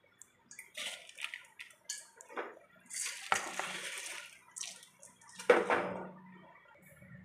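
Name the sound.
washed rice added to boiling water in a pot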